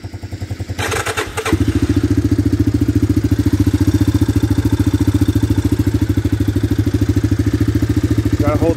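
A 1985 Honda Big Red 250 ES ATV engine runs at a steady idle, close and loud with an even, rapid thumping exhaust pulse, after a brief clattering start.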